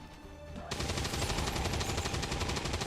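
Sustained automatic gunfire from XCOM 2: War of the Chosen starts abruptly after a brief quiet stretch, then rattles on loud and steady as a dense, rapid string of shots.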